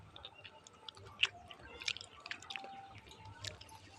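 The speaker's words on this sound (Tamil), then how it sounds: "புளி கரைச்சி ஊற்றுறேன்." Dissolved tamarind water poured into a cooking pot, with faint trickling, dripping and small splashes at close range, quiet and without talk.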